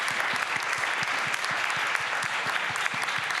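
Audience applause rings out after guests are thanked at a conference session, dense and steady throughout with sharp individual claps standing out near the front.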